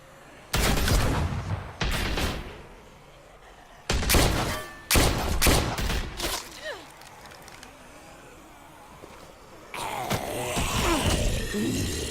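Gunfire in The Walking Dead video game, heard as bursts of sharp loud shots in quick clusters with pauses between, followed by rougher noisy action toward the end.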